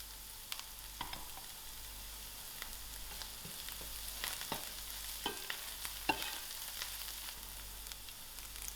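Mustard seeds and crushed garlic sizzle steadily in a pan with a broad hiss, broken by occasional pops and light stirring clicks, with no talking.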